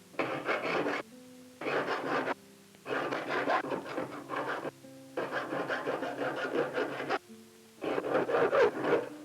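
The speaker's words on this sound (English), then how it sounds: "The knife master then finishes the head of the handle by filing it." A knife maker files the head of a wooden sheath-knife handle, repeated rasping strokes coming in long bursts separated by short pauses, fairly close and steady with no voices.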